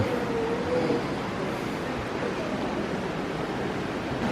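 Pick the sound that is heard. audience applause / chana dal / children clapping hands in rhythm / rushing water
rushing water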